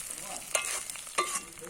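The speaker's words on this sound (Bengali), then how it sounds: "দিচ্ছি ঘি নাড়ছি।" Ghee with lemon and bhringraj leaves sizzling in a pan as a spatula stirs, two distinct scraping strokes over a soft steady frying hiss, close up with no talk.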